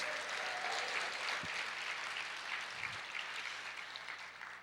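A church congregation claps steadily in a long, even wave of applause that fills the room, with no talk over it.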